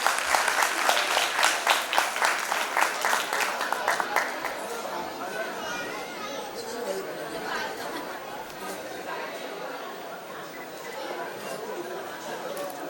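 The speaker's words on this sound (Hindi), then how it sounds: "तो एक बार जोरदार तालियां" An audience at a school annual function claps loudly, with sharp hand claps that fade into a softer, sustained patter beneath crowd chatter and voices.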